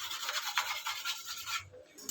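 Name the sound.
toothbrush scrubbing moisture off a digital clock circuit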